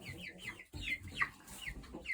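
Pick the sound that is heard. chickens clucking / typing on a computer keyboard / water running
chickens clucking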